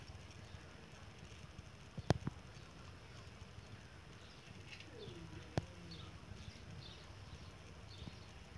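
Pigeons raised for pigeon racing coo softly and intermittently among other faint bird chirps, with a couple of sharp clicks or knocks breaking the low, steady ambient background.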